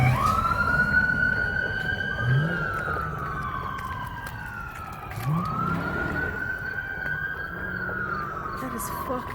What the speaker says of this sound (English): First I thought I was hearing sirens from like a street over